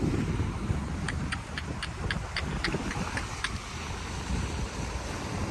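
Ocean waves rush and churn steadily against placed rocks on the shore in Malay, Aklan, with blustery wind noise, while a faint series of bright, evenly spaced chirps sounds in the background.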